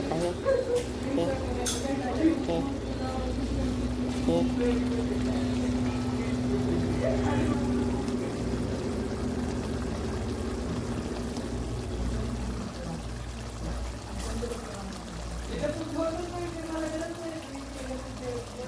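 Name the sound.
pouring water into a pot of rice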